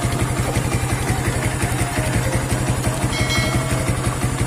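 A Yamaha New Vixion Lightning motorcycle engine idles close by with a fast, even, steady putter, unchanging throughout.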